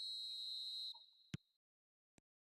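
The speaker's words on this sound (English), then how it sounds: "There's the whistle, and here we go." A referee's whistle starts a match in the video game eFootball on mobile, one steady high shrill blast of about a second, followed by a brief click and a faint later tick.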